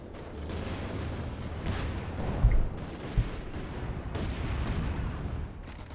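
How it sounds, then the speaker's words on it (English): Distant artillery fire pounds 6-pounder anti-tank gun positions in the Company of Heroes 2 real-time strategy game, a low rumbling barrage with a couple of sharper thumping impacts over steady battle noise. "got 6 pound guns being hammered by artillery"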